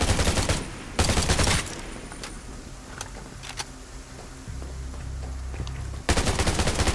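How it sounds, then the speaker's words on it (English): Automatic gunfire in the zombie survival video game Undawn, loud rapid bursts at the start, around one second, and again near the end, with quieter game ambience and rumbling between. "Oh, I'm shooting the wrong person."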